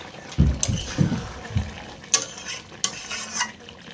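Meat stirred and fried in a pot with a little water left, loud spoon scrapes and knocks against the pot over a steady sizzle, in irregular bursts.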